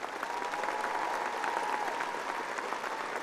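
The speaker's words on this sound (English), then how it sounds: "Please give these kids a round of applause." Audience applause at a 2022 high school graduation ceremony, a steady wash of clapping from a large crowd in a hall, moderately loud and continuous throughout.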